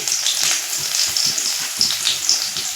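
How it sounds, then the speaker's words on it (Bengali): Whole cumin seeds, chopped onion and garlic sizzle in hot oil in a kadai, a steady close crackling hiss with small bursts of popping, no talking. "তেলটা গরম হয়ে গেছে তেলে দিয়ে দেবো গোটা জিরে পেঁয়াজ কুচি রসুন কুচি"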